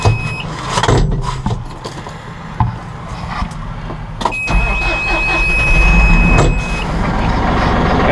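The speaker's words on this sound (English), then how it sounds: "Now we'll fire up the Massey Ferguson 4700 series." A Massey Ferguson 4700 series tractor engine cranks and fires up, then settles into a loud, steady diesel rumble close by, with a few clunks and a high electronic tone at the start.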